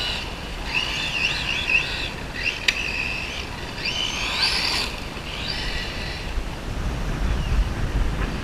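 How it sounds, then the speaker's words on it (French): Wind blows outdoors across an RC car test area laid out with cones, a constant broadband rushing roar, with the thin high whine of a small electric motor rising and fading over it. "le vent fait partir les cônes maintenant"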